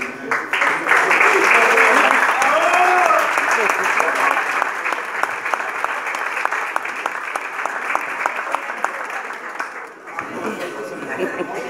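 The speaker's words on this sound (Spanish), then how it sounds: "Aplausos, ¿eh?" Loud, sustained clapping from a group of people at a warm family celebration, tapering slightly toward the end, with a few faint voices mixed in.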